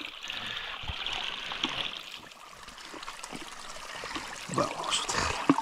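Water trickles in at a spring beside the upper Iori river near Sioni, a faint gurgling flow with small splashes and louder burbles toward the end.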